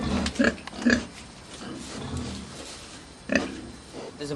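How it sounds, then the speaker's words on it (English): Pigs grunting in short bursts, a few loud snorts close by with quieter shuffling and grunts between them. "Over here is the pigs."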